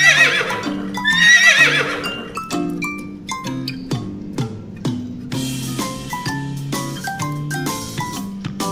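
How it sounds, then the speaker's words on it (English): A horse gives a loud, shrill whinny that rises and trembles before dropping off, over a bouncy melody of bright, tinkling notes that carries on alone for several seconds. "horse"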